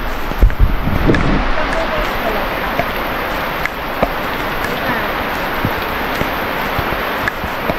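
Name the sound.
heavy rain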